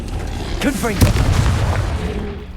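A Confringo blast spell in Hogwarts Legacy, a heavy booming explosion that swells around the middle of the clip amid game effects, with a voice speaking over it.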